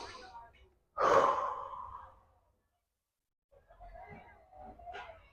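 One deep breath in, a loud airy inhalation up close, followed by silence and then softer breathy exhalations and murmurs.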